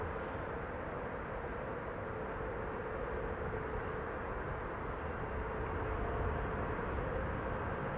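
A China Southern Cargo Boeing 777 arriving from Chongqing, a steady low distant jet roar holding constant throughout.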